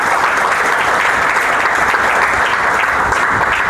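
Loud, dense applause from a gathered audience welcoming a group director at a campus courtyard gathering, sustained steadily throughout with no voices over it.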